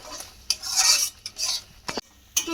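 Spatula scraping and stirring a spice mixture in a pan for Afghani egg curry, a few quick metallic scrapes and clinks in an irregular rhythm, close and fairly loud with a faint sizzle beneath.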